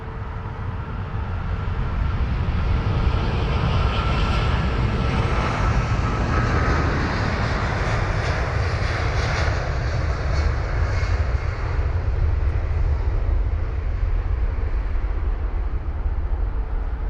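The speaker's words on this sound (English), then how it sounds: "up next is going to be the British Airways 777-200 with the one world livery, flight number BA93, heading to Toronto" British Airways Boeing 777-200 jet at London Heathrow, a loud continuous roar of engines that holds steady throughout, broadband and close.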